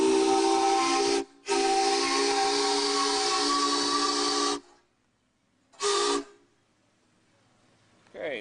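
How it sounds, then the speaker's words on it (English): Steam whistle on a 1909 Stanley Mountain Wagon, two long loud hissing whistle blasts with a brief gap between them, followed after a pause by one short burst, close and alone. "You also have a cable here that hooks up to a steam whistle."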